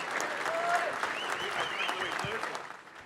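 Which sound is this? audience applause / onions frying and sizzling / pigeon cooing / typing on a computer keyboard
audience applause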